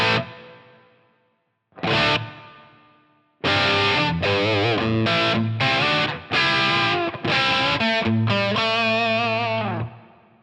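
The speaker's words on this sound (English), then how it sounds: "I decided to use the plate reverb on this" Distorted electric guitar phrases through a plate reverb effect, loud and sustained, with a long reverberant tail ringing out after each burst of notes.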